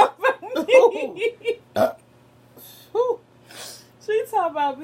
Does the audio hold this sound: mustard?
no